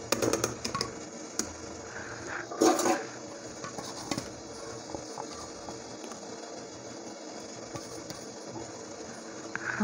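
Water boils in a steamer pot for khaman dhokla, giving a steady rolling, bubbling rush with a few louder splashy surges near the start, close by and alone.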